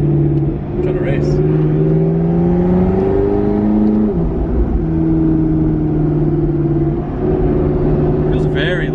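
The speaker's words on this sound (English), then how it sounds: "whenever you go catless on these cars, you start hearing the whistle" A 700 hp twin-turbo V8 car running catless pulls hard under acceleration, its loud, steady engine drone shifting pitch through gear changes with a faint turbo whistle, while people talk over it.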